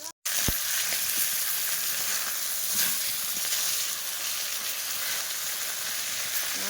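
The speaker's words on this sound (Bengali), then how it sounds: "এই যে এদিকে এই কড়াই তরকারি কষাই করছি" Curry stir-fried in a kadai-style wok gives a steady, close hiss of sizzling that runs almost unbroken after a brief silence at the start, with a few faint scrapes underneath.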